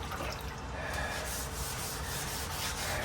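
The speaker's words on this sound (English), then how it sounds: "Make sure that bottom gets sanded." Close, steady rubbing of sandpaper over the bottom panel of a car during prep before painting, a continuous dry scratchy hiss with a quick back-and-forth rhythm.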